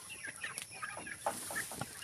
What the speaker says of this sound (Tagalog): Feeding time. Kaya tayo ngayon sa ating mga alagang sisiw.